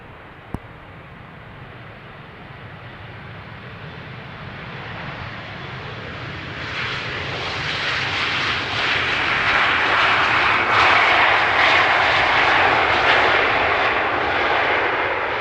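A Finnair airliner inbound from Helsinki approaches runway 18R at Amsterdam Schiphol, its engine roar rising from a distant rumble to a loud, broad whoosh as it passes close, then holding steady.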